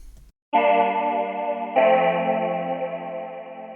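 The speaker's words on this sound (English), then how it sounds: "which can be used to create choir type sounds" Copperhead synthesizer on iOS playing a choir-like pad, a sustained chord that swells in after a short pause and shifts to a new voicing midway, lush and chorused with no talking.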